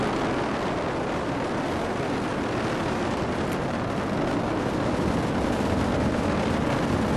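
A dense, unbroken roar from Atlas V rocket engines at launch fills every moment, steady, broad and distant-sounding with a crackling texture, carrying no voices.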